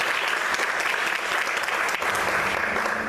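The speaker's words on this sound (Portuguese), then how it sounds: "Aplaude o Senhor mais forte, glória a Deus." A church congregation claps louder for the Lord during a Portuguese-language service, a sustained wall of dense applause with a few sharper claps standing out, steady from start to finish.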